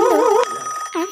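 A telephone ringtone plays close and loud, a warbling electronic melody that pauses briefly and then starts up again.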